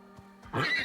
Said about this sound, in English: I'm riding my horse up a metal plank.